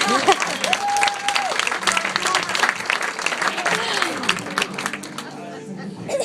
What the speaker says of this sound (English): You clap. I need to clap for that.